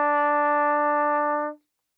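One clear, sustained brass-like note held steadily for about a second and a half before stopping abruptly.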